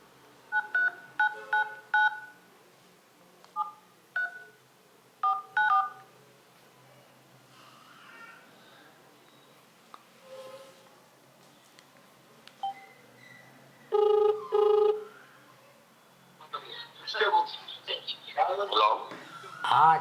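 A telephone number being keyed in, a rapid series of clear DTMF tones in bursts, followed by a call connecting with beeps, with people talking between and after the tones.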